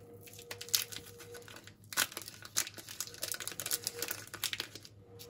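An ETİ Çıtır Karamelli caramel chocolate bar wrapper crinkles and tears open close to the microphone, with irregular bursts of rustling and crackling plastic and no talking.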